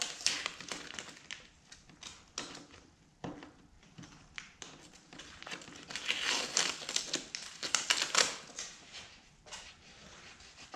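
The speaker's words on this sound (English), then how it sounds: "Now we can pull this piece of tape off" A strip of tape being peeled off a resin-poured camo flag wood piece, giving a close, crackly tearing and crinkling that rises and falls in bursts over several seconds, fairly quiet.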